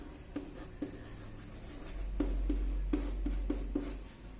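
Chalk or marker strokes of a teacher writing a word on a classroom board, a series of short taps and scrapes in an irregular rhythm, close by, with low room hum underneath and no talking.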